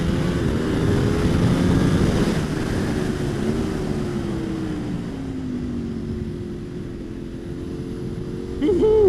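A Ducati Panigale V4 SP2 motorcycle ridden fast, its engine a steady droning tone that rises and bends in pitch as speed changes, heard from onboard with wind rush beneath.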